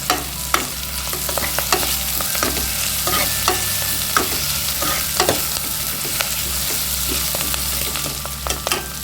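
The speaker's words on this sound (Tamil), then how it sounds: "வெங்காயம் இந்த அளவு வதங்கிருச்சு." Onions sautéing in a pan for a Tamil sundal rice dish: a continuous sizzle and fry under regular scraping stirs of a spatula, with sharp clicks against the pan and a low steady hum beneath, no talking.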